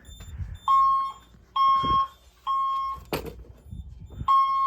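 A fire alarm sounds during a monthly test, giving four loud, steady electronic tones about half a second long, separated by short gaps, with a sharp clatter between the third and fourth tones.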